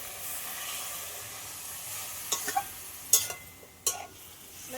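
Water splashes into a hot pan of lightly fried pumpkin leaves, setting off a soft, steady sizzle with a few sharp hissing bursts and clinks near the end.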